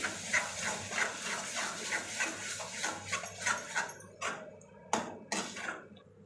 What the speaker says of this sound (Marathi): जे आपण टोमॅटो चणे याची पेस्ट केली हे टाकायचे ही पण चांगली परतून घ्यायची